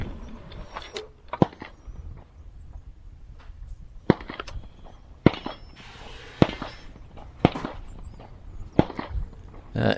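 Distant gunshots crack sharply at irregular intervals, about eight of them spread over ten seconds, over a low rumble of background noise heard from an e-bike ride.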